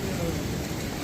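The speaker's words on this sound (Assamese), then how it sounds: "বৰষুণ দি আছে সেইকাৰণে।" Steady rain falls during a mountain trek on the walking route to Kedarnath, a constant soft hiss with no break over a brief stretch.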